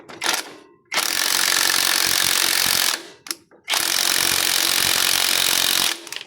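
A 19 mm wrench loosens a bolt on a Kawasaki CT100 motorcycle, giving two long, loud bursts of fast mechanical ratcheting clicks separated by a brief pause, close up and alone.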